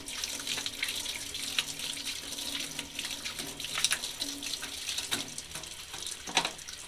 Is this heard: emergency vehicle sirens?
no